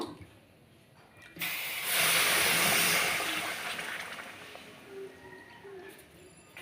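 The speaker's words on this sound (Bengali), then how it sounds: "এক বাটি চিনি দিয়েছি, আর তার সাথে 2 বাটি জল দিয়ে দিলাম।" Water pours from a bowl onto powdered sugar in a pan for syrup, a loud, hissing gush of a few seconds that swells, holds and then tapers off, close by in a quiet kitchen.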